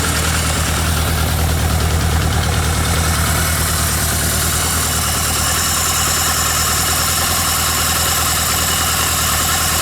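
A 1979 Yamaha XS1100 F motorcycle engine running on its first start after the carburetors were bench synced, a steady, loud, close idle with a constant low droning rumble throughout and no talking.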